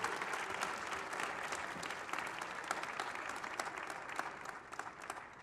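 An audience at an anniversary award ceremony breaks into sustained, even applause, a full crowd of clapping heard for about five seconds without talk.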